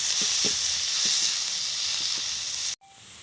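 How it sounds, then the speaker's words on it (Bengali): Chopped onion and garlic frying in a pan, a broad steady hiss with a few soft low knocks of stirring, then cutting off abruptly near the end. "এখন দিয়ে দেব কিছু পেঁয়াজ কুচি, রসুন কুচি। এটাকে আমি সুন্দর করে ভেজে নেব।"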